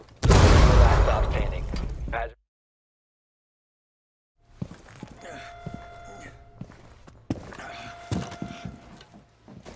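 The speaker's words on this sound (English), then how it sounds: "Grenade out." A grenade goes off in Rainbow Six Siege: a loud, broad blast with a long rumbling tail lasts about two seconds, then silence, then scattered clanks, footsteps and game mechanisms return at lower level.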